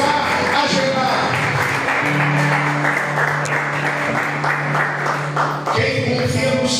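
A congregation applauds during a church service, steady dense clapping filling the room with a sustained tone running beneath it, while voices carry over the top throughout.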